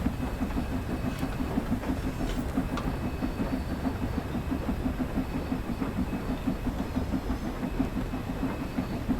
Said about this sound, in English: the locomotive is still actually kind of struggling to gain speed